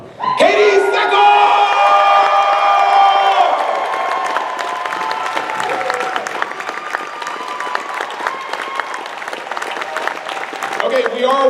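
A crowd at a Battlestar Galactica fan convention panel breaks into loud, sustained applause with cheers and whoops as cast guests are introduced, the clapping steady and dense throughout.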